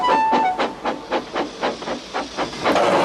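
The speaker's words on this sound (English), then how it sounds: "Here's your freight train, James, said Thomas" A steam locomotive chuffs in a steady series of loud hissing puffs, rhythmic bursts of steam repeating about twice per second.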